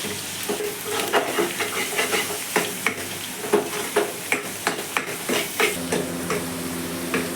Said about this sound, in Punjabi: ਇਹਨੂੰ ਚੰਗੀ ਤਰ੍ਹਾਂ ਭੁੰਨ ਲਵਾਂਗੇ